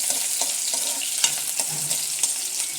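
Onion sizzles steadily in hot oil in a pan for a Kerala chickpea curry, with a dense, even crackle broken by small louder pops and scrapes. It sounds close and carries no voices.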